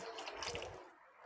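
A short, quiet splash and trickle of water being poured into a pot of moth bean curry, fading out after about a second.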